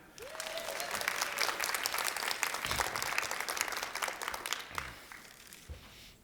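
A crowd claps at a floral design competition, with applause rising quickly, holding steady for several seconds, then fading near the end.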